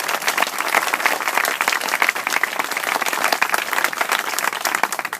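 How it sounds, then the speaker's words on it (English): An audience applauding for a school superintendent at an Edible Schoolyard event in Sacramento, dense, even clapping from many hands that holds steady throughout without a break. "So if you wouldn't mind giving him another applause."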